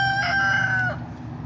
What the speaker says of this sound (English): 1 leghorn rooster,